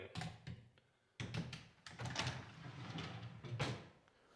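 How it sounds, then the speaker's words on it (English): Drawers are fitted into the drawer unit of a built-in sliding wardrobe, giving a series of close wooden thunks, knocks and short sliding scrapes in quick succession, with quiet pauses between. "to finish off the drawer unit, it's as simple as getting these drawers put in."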